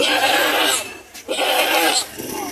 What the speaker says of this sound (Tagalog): Meron na dito malaking kambing o block.